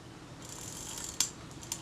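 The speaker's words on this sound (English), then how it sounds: "Film advance moves." A Kodak Retina IIa camera's film advance mechanism is worked by hand, giving a soft steady mechanical whir with a couple of small clicks near the end, close and quiet, with no voices.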